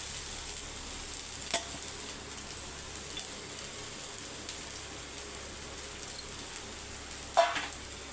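Low, steady sizzle of cooked rice frying in a pan for egg vegetable fried rice, with a couple of faint utensil clinks over the constant crackle.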